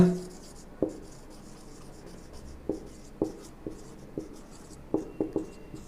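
A marker taps and scratches on a board during a classroom biology lesson, in scattered short strokes and clicks that are quiet and close, with no talking.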